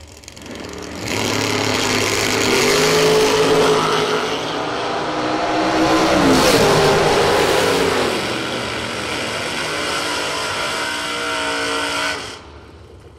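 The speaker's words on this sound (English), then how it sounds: "Mark Nettesheim, 631 the dial on the right-hand side for the 83 Camaro out of Heartland, Wisconsin." Drag race cars, including a 1983 Camaro out of Hartland, Wisconsin, roar down the strip in a loud, sustained engine blast that rises and shifts through about eleven seconds before cutting off abruptly.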